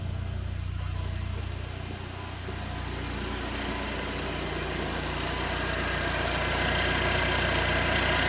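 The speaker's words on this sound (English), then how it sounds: "So that's the first cold start with the new downpipe." A Mercedes-Benz C250 with a catless downpipe idles close by on a cold start with a raspy, droning exhaust note, holding steady and growing slightly louder toward the end.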